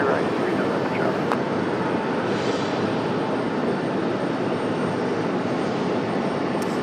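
An aircraft takes off from runway 23 right at Raleigh-Durham International Airport, its engines a steady, broad roar heard from a distance with no break, while a faint voice comes and goes over it.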